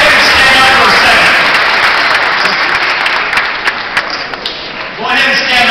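Audience applause in a hall during a guest speaker's talk, dense sustained clapping from many hands that tapers toward the end as a voice begins to speak.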